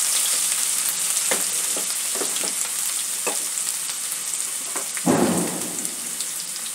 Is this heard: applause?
no